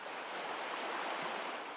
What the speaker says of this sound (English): Right through the ranch flows the aptly named Crystal Creek.